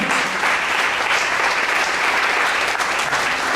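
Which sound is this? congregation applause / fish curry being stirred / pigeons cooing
congregation applause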